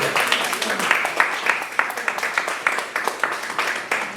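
Audience applause at a jazz lunch concert after a band's set, fairly close and lively, with individual claps standing out from the crowd and some voices mixed in.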